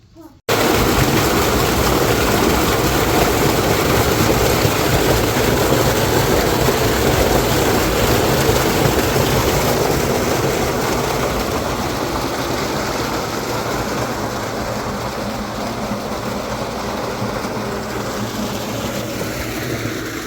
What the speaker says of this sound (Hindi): सोलर वाला ट्यूबवेल अल्हम्दुलिल्लाह हमने चला दिया है।